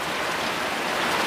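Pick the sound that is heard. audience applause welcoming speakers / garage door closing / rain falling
rain falling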